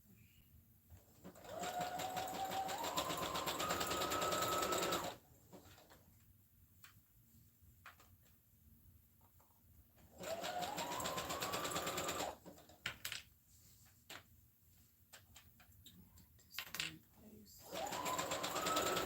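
A sewing machine stitches elastic in three long, steady runs of rapid whirring with its motor pitch rising as it speeds up. Quiet handling noises and a brief spoken word fall in the pauses.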